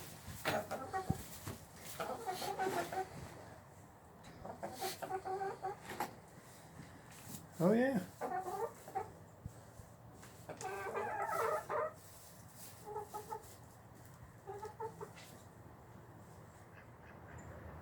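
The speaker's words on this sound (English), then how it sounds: "All right, chickens, watch out. Coming through, chickens. Watch out." Chickens and ducks in a winter garden coop cluck, quack and squawk in scattered bursts, with a rooster-like crow midway, close by and moderately loud, while a person speaks briefly.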